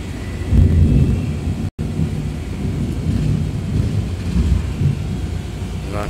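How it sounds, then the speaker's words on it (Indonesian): Thunder rumbles loudly and continuously over steady rainfall at Merak harbour in Banten, Indonesia, a deep rolling storm close by with no voices, cut by one brief dropout. "Sepertinya di Pelabuhan Merak Banten ini diguyur hujan teman-teman."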